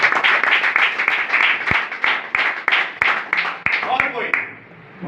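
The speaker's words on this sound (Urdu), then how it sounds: "بھائی کے لیے زوردار تالی۔" A congregation applauds loudly for a man at a religious gathering, dense continuous clapping with a few sharper claps, overlapped by voices, fading slightly near the end.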